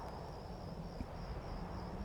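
A continuous high cricket trill rises from the windy nighttime landscape of the video game Skyrim, faint and steady over a low rushing bed of air, with one small soft knock partway through.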